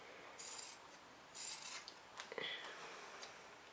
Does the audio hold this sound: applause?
no